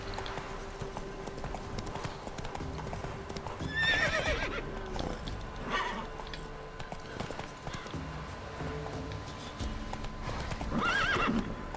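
In The Witcher 3, a horse's hooves clip-clop in a steady galloping rhythm, with a couple of high neighs breaking through over a faint game backdrop.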